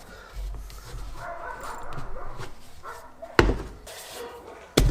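Dogs at an animal shelter across the road bark in the background, distant and intermittent, with a couple of louder sharp bangs near the end and no talking.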